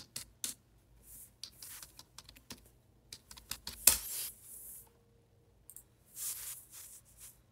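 Computer keyboard keys tapped in short irregular bursts while an IP address is entered, crisp close clicks separated by brief pauses, with one louder clack midway and no talking.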